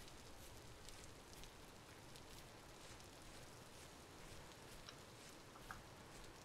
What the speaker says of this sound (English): Oh, it's so rainy out.